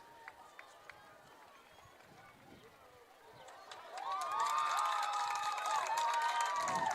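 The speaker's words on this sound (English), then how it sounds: "Not sure why people are cheering" A crowd at a girls' high school state soccer quarterfinal breaks into cheering and shouting that rises suddenly and holds, heard from a distance under a commentator's voice.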